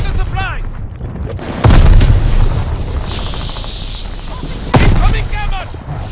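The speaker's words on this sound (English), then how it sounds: "Tossing grenade!" Two heavy booms from grenade blasts in Call of Duty Vanguard multiplayer gameplay land about three seconds apart over constant loud battle noise, with game character voices shouting.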